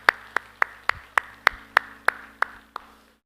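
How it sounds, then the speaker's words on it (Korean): Congregation in a church service clapping in unison, about eleven crisp, evenly spaced claps at a brisk steady rhythm that slow slightly and stop. "우리 하나님께 영광의 박수 합시다."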